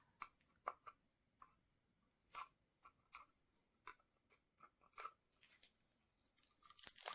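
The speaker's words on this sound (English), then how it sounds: "there's some plastic here. I've got some scissors." Scissors snip through plastic at a polymer clay jewelry workbench, making a series of sharp, irregular clicks and crunchy cuts close by, with no talk.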